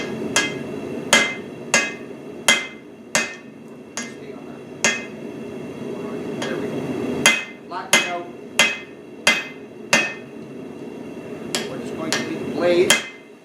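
Hammer blows flattening a forged tomahawk blade on an anvil, sharp ringing strikes in irregular clusters of one to three, close and loud over a steady low background hum.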